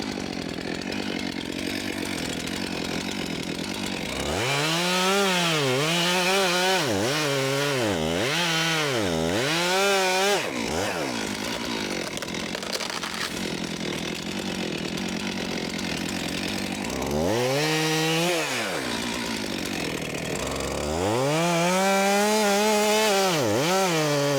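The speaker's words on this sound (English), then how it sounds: "I'm no pro chainsaw guy like Heath, but I do like running them" A chainsaw engine revs up and down repeatedly while cutting roadside logs for firewood, rising and falling in pitch as it cuts, loud and close with idle gaps between bursts.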